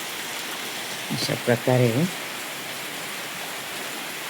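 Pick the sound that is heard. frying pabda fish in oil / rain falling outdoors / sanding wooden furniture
rain falling outdoors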